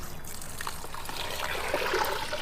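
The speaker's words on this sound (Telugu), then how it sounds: "ఆ తర్వాత ఇలా నీళ్లు వేసేసుకున్నాం" Water is poured into a bowl-shaped container filled with soil, a steady soft trickle close by that builds slightly toward the end, with no talking.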